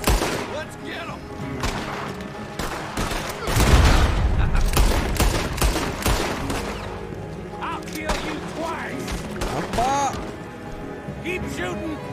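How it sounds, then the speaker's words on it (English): Heavy, chaotic gunfire in a Red Dead Redemption II shootout, rapid overlapping shots and cracks at close range, with shouting voices heard amid the barrage. "Keep shooting!"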